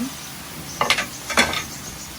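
Crickets frying in oil in a pan, stirred with a utensil: a soft sizzle underneath two distinct scraping stir strokes, close and clear, with no talking.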